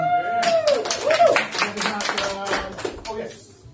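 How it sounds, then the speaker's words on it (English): Audience at an improv comedy show clapping in a dense burst of applause, loud at first and tapering off, with a voice speaking over it near the start. "Applause for Dieter."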